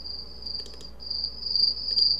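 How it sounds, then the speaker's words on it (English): Crickets chirp in a continuous high trill with brief pulsing bursts, steady and fairly close, over a faint low background hum. "So we're gonna add some crickets here."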